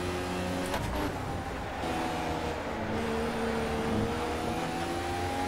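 A Lotus 98T race car engine at Hockenheimring in a racing game, a steady high-pitched whine held at speed with slowly shifting pitch, continuous and moderately loud.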